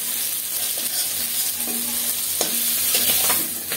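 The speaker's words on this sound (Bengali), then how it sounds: "মাছগুলো ভেজে নিচ্ছি" Fish rubbed with turmeric, salt and chili fry in oil until red and crisp, making a loud, continuous close-up sizzle with faint crackles and occasional soft stirring ticks; there is no speech.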